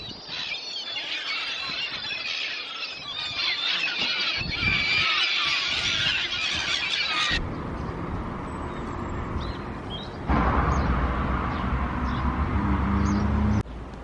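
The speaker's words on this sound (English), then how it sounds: "that honking noise you could hear behind me is these guys. I think these are barnacle geese." Barnacle geese honk on a winter walk near Par in Cornwall, a busy chorus of squealing, overlapping calls that carries on at moderate distance over shifting wind and background noise.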